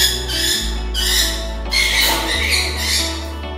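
A lovebird gives harsh, raspy squawks in repeated bursts as it is handled and picked up, loud and close with a low steady hum behind.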